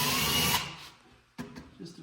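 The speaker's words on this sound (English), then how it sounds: "Pre-drill over here," Power drill with a mini drill bit pre-drilling wood in a cabinet shop, a loud high whine for half a second that stops, then a short second burst of drilling.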